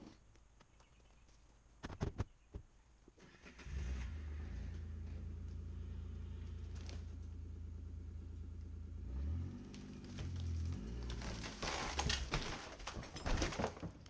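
A Kawasaki Mule utility vehicle pulls down a home-built wooden gazebo: a steady engine drone and rumble runs through most of the stretch, rising as it strains, with cracking and clattering bursts near the end.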